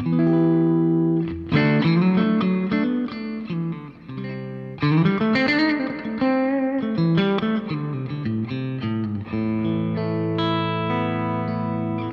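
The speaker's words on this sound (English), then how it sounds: "if I start with the clean channel, you get all the classic sort of Fender 6L6 type tones." Clean electric guitar plays chords and picked notes through the clean channel of a Tone King Sky King tube amp with 6L6 tubes, bright and full, with gentle sustain and a slight shimmer, loud and close throughout.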